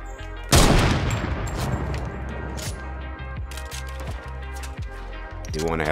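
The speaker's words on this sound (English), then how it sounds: "Why is he shooting at me?" Gunfire in the Fortnite video game: a loud burst of rapid shots that fades into a string of evenly spaced single cracks, with a voice heard over it.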